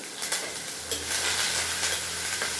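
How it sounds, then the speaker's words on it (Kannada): Curry leaves and green chillies drop into hot oil with chana dal, urad dal and peanuts, setting off a loud, close crackling sizzle that settles into a steady fry with light stirring, no voices. "ಇವಾಗ ಕರಿಬೇವು ಹಾಕ್ತೀನಿ, ಮೆಣಸಿನ್ಕಾಯಿ ಹಾಕ್ತೀನಿ"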